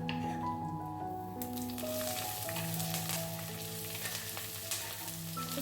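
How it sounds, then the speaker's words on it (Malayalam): Onion, green chillies, ginger and curry leaves sizzle steadily while being sautéed in a pan, a continuous close frying hiss with occasional stirring scrapes. "ഒരു സവാള, ഒരു 3-4 പച്ചമുളക്, ഒരു ചെറിയ കഷ്ണം ഇഞ്ചി, കറിവേപ്പില ഉണ്ടെങ്കിൽ കറിവേപ്പിലയും ഇത്രയും ചേർത്തിട്ട് ഒന്ന് വഴറ്റിയെടുക്കാം"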